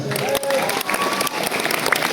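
Students and staff at an Islamic senior high school gathering clap for the grade 12 class, a brief, steady burst of crowd applause with voices mixed in.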